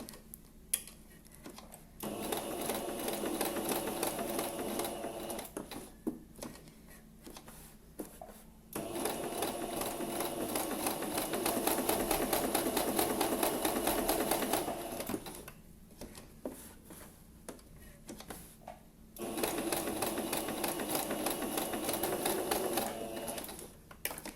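A domestic sewing machine stitches fabric in long, steady whirring runs, close and loud, broken by short pauses as the cloth is turned and guided along a curved seam.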